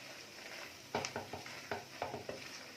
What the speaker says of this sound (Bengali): মশলাটা এখন ভালোভাবে কষছি